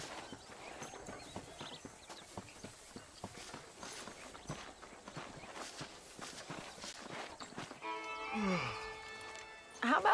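Horse hooves clip-clop at a steady walking pace in Red Dead Redemption, an even rhythmic clatter under faint game ambience, ending with a short swell of musical tones.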